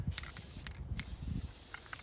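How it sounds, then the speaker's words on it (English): Spray adhesive hisses from an aerosol can onto the legs of a Halloween spider prop, short close bursts with brief gaps, fairly quiet against a faint background hum. "I'm going to spray the legs"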